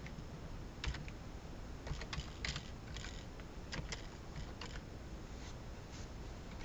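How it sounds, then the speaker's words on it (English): Quiet, irregular clicks of typing on a computer keyboard, scattered keystrokes spread over several seconds against a faint hiss, with no talking. "we're going to type in Route 54"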